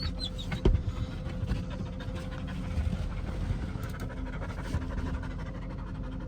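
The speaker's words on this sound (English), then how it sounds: "It's a worn out dog." A worn-out dog pants rapidly and steadily after a 5-mile lakeside trail hike, close and audible over a low engine-like rumble.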